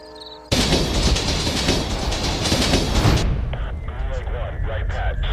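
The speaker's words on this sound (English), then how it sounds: "there's this train" A train roars past in a movie trailer, a sudden loud rushing rumble with rattling clatter that cuts off abruptly, followed by quieter mechanical clanks and faint radio-style voices.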